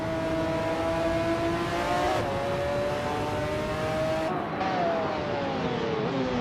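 A 1997 Lotus Elise GT1 race car in a racing video game, its engine droning steadily and loudly with clear pitch shifts as it changes gear and revs, with no talking.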